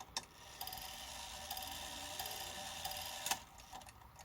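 Badische striking alarm clock ticking faintly and steadily at close range, a quiet mechanical tick with a few sharper clicks, no voices.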